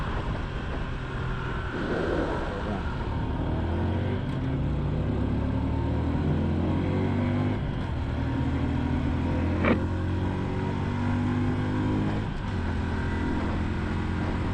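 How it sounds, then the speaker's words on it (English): A small Honda Super Cub motorcycle engine held at full throttle near redline, a steady, loud, continuous drone with low harmonic bands that rise and fall slightly as the revs shift. "pretty much a full acceleration test, full throttle, wide open, running at almost a red line"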